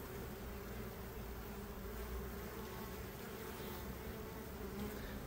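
Honeybees hum around a hive entrance as they carry in pollen and nectar, a soft, continuous buzzing drone heard close but faint with no voices.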